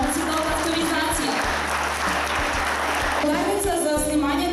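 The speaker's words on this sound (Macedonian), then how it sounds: "Ве молам еден аплауз" Applause from an audience at a kindergarten's patron day celebration, a dense, steady clatter of many hands filling the whole stretch over a low musical backdrop.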